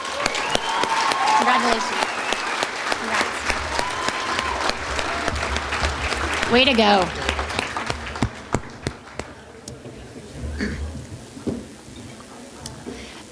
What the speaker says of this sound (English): give these students a big round of applause